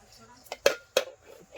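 A metal cooking pot clanks twice in quick succession as it is picked up and handled for making rice, the sharp clinks close and fairly loud over a quiet room.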